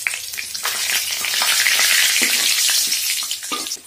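Rohu fish pieces rubbed with salt and turmeric sizzle loudly in hot mustard oil in a kadai, a dense, steady crackle with sharp spitting pops throughout, heard alone without any talk.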